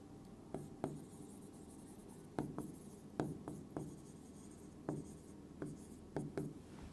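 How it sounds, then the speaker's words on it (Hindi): Pen writing out a physics solution by hand, a series of sharp scratchy strokes and taps in irregular bursts, close and fairly quiet, with no voices. "इसको लिख देते हैं।"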